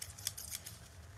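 Cutco forged-steel scissors snip in a quick series of crisp, close cuts, alone and fairly quiet.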